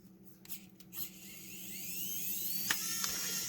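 Small screwdriver backing tight screws out of the plastic housing of a UVC LED sterilization light, a steady whirring drone with a few scraping bursts and sharp clicks near the end.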